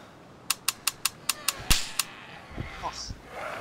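Rapid gunfire in the video game DayZ, about eight sharp, evenly spaced shots in quick succession followed by softer impact and movement noises, heard at moderate distance with a voice speaking afterward.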